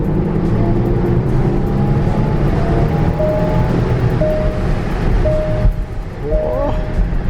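Interior drone of a sporty V6 luxury SUV on the move, a steady low rumble and road noise with faint tonal whines; a voice speaks briefly over it.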